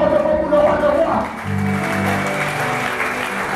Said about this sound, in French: Acclamons pour le roi de roi